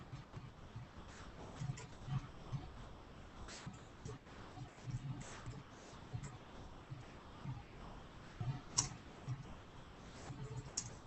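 Keys on a keyboard tap in a quiet, irregular, continuous stream of light clicks while tags are typed out, faint and close with a low room hum beneath.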